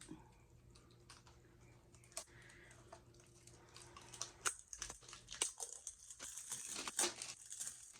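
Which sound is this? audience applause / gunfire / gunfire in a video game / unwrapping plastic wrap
unwrapping plastic wrap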